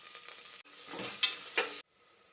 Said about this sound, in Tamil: மட்டன் சூப் செய்கிறதுக்கு எண்ணெய் ஊற்றி வெங்காயம்,